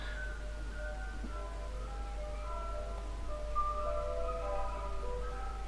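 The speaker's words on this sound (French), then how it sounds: "Il y a le marchand de glace qui passe" Faint tinkling chime melody of an ice cream van passing by outdoors, distant and thin over a steady low hum, with no voices.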